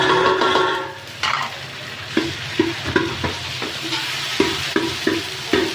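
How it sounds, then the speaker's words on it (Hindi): Garlic and ginger get stirred into onions browned in ghee for a potato samosa filling, with a loud sizzle under repeated spoon scrapes and clacks against the pan, close up and without speech. "मैंने एक बड़े साइज का प्याज डाल के ना इसको ब्राउन कर लिया है घी में। अब इसके अंदर जाएगा ये लहसुन अदरक"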